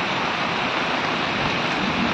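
Heavy monsoon rain falling, a dense, steady hiss of downpour that stays loud and unbroken throughout.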